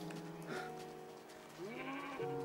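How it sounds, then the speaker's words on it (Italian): Minecraft sheep bleating twice in a video game, two short wavering bleats close and clear over faint background game sound. "Pure la pecora quella."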